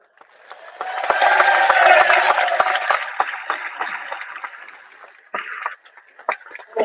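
An audience at a Bulldogs press conference applauds, a dense swell of clapping mixed with cheers that builds, peaks, then thins to scattered claps and a brief renewed burst.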